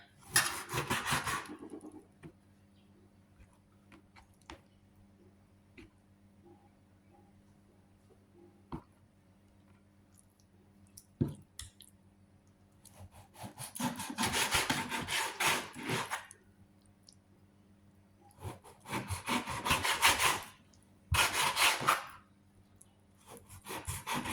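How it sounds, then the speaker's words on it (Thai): Pork being sliced on a cutting board in a home kitchen, heard as bursts of rasping, sawing knife strokes in close-up, separated by quiet pauses. "มาถึงขั้นตอนหั่นหมูนะคะ"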